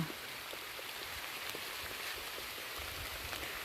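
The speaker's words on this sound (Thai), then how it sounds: "ฝนตกมาแล้ว" Rain falls steadily in a forest, a constant even hiss of drops on leaves and ground with no pauses and no voices.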